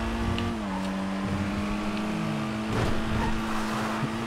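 A Dinka Blista Kanjo car engine in GTA V hums steadily and close, its pitch stepping up and down with the revs, with a brief burst of rougher noise near the end.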